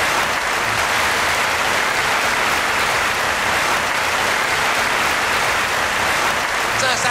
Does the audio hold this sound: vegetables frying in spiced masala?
no